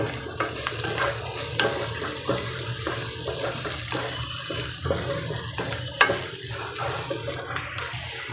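Gobindobhog rice for pulao, salted, is stirred in a hot pan: a steady close sizzle of frying runs throughout, broken by repeated scraping strokes of the spatula.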